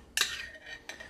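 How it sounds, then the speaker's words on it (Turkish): A spoon strikes a plate twice while garlic is stirred into yogurt in an old ceramic dish, giving two sharp clinks about seven-tenths of a second apart, close and fairly quiet, with no talking. "Sarımsağı iyice karıştır."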